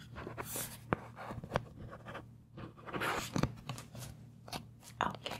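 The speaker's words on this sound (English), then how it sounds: "Let me just write that all down in your chart" A pen scratches out notes in a medical chart, close and soft, in short irregular strokes with faint rustling between them, in a quiet whispery setting.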